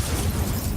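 A fire spell cast in Hogwarts Legacy, a short dense whooshing burst with a low rumble, loud and brief, with no talking.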